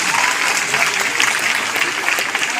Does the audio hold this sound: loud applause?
yes